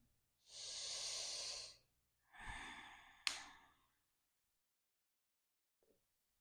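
Two deep breaths taken during a hamstring yoga stretch, a long airy exhale followed by a shorter breath ending in a soft snort-like release, close and quiet, then silence.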